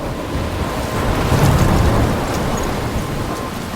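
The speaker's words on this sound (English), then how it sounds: "I'm trapped in a storm?" A storm in the video game Life is Strange: steady, loud rain and wind roar fills the whole stretch with a low rumble of thunder swelling in the middle, no voices.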